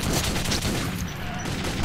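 Continuous rapid gunfire from a weapon in the video game Metro 2033, loud and dense bursts of shots blending into an unbroken barrage with no talk over it.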